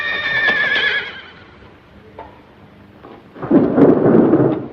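A horse whinnies loudly at the start, followed by a quiet stretch and then a rumbling swell of noise like distant thunder.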